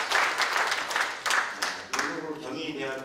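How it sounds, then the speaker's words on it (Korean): Seminar audience claps in a broad, steady wash of applause that surges in a few swells before thinning toward the end, with voices faintly mixed in. "박수로 한번 즐겨볼까요?"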